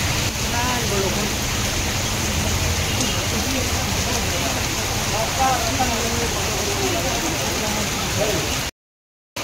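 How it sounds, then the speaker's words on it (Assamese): Heavy rain pours down in a dense, steady roar that fills the scene loudly and without pause, then cuts off abruptly near the end. "ইমান বৰষুণ"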